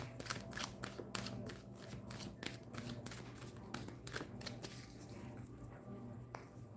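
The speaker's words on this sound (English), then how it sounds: "just a one butterfly shuffle, three-way split" Quiet tarot cards being shuffled with a butterfly shuffle, a series of soft rhythmic flicks and taps against a low steady background hum, fading toward the end.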